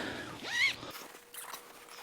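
A zipper on a memory foam mattress topper cover in a campervan is pulled once in a short, quiet, close zip, followed by faint rustling of the fabric.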